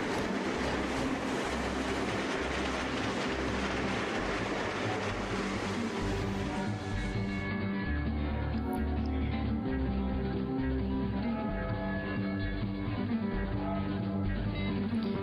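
Trains running in the Trainz video game, a continuous rumble with rhythmic clickety-clack of wheels over rail joints, steady and fairly close, with no talk.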